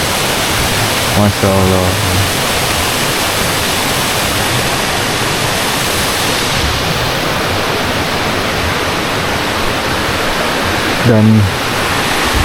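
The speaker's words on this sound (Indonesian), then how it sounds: "itu curug yang tadi saya cuci muka" A forest waterfall (curug) near a hidden village roars as a steady, loud broadband rush throughout, with a man's brief spoken words near the start and again near the end.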